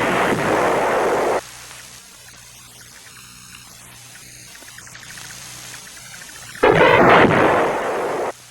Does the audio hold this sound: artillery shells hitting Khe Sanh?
yes